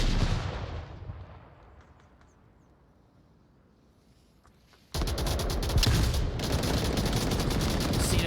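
Rapid gunfire in a competitive team shooter match, a decaying burst at first, a lull of quiet, then a sudden dense, loud barrage of continuous shots that keeps going to the end.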